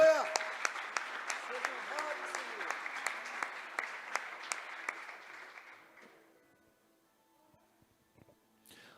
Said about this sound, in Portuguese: Vamos aplaudir o Pai, o Filho e o Senhor Espírito Santo.